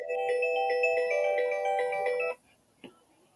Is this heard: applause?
no